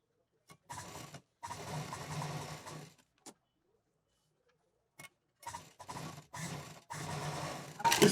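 Sewing machine stitching lace onto a quilted piece for a bag accessory, close and clear, running in several short whirring bursts of rapid needle ticking separated by silent pauses.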